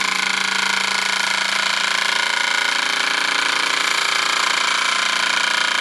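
On an SEL Junior 1530 steam engine, the safety valve hisses steam in one loud, unbroken hiss that holds steady throughout, with no talk over it.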